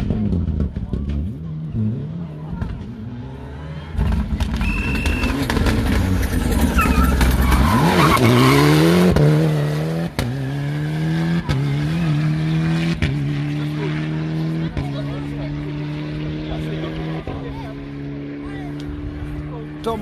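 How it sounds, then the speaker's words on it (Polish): A Ford Fiesta Proto rally car drives a technical section of a rally stage at Świdnica, its engine revving up and down through repeated gear changes with tyre noise, loud and close, while commentary runs over it. "Ford Fiesta Proto. Tak właśnie on tutaj podróżuje na tym dość w takim technicznym fragmencie trasy"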